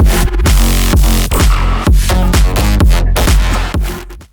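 An electronic music track, made with Senator, plays loud and dense with a punchy, driving beat and layered synths, ending in a short dropout.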